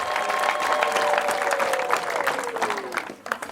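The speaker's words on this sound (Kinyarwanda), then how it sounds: "Tuzamurira Yesu wacu amashyi menshi cyane" A church congregation claps enthusiastically during a choir worship service, dense applause that holds steady and then thins out near the end, with a sustained tone running beneath it.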